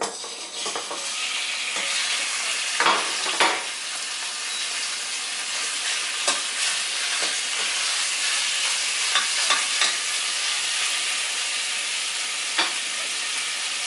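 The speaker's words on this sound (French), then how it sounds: "Nous avons fait chauffer un peu d'huile dans une casserole. Et maintenant, nous allons faire cuire les morceaux de viande." Pieces of meat sizzle loudly in hot oil in a saucepan, a constant bright crackle with occasional sharper pops and scrapes of stirring.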